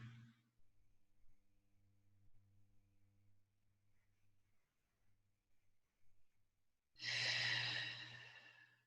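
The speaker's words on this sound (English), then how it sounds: "Give me 3 more big breaths here." A deep breath during a yoga conditioning stretch: a faint low hum gives way to one strong, close, airy exhale near the end, with a brief soft breath at the start.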